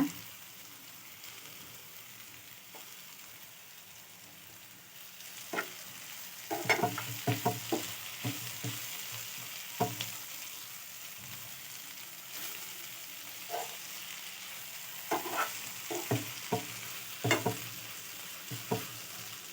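Paneer bhurji is stirred and fried in a pan, giving a faint continuous sizzle broken by clusters of soft scraping and tapping stirs, heard close and without talk.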